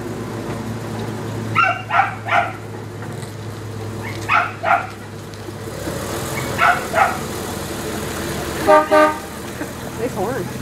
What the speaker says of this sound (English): horn. Yeah. Wow, that's a big car.